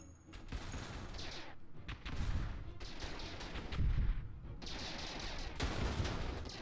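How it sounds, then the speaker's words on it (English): Artillery cannons fire in the space strategy game Stardrive 2 during a ship battle, a quiet, continuous stretch of rumbling booms and rapid gunfire bursts. "my soldiers apparently do have artillery cannons on it"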